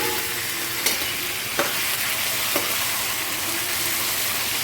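Half a kilo of ivy gourd (kovakkai) with curry leaves sautés in a heavy kadai, a loud continuous hiss broken by three brief spatula scrapes, with no voices.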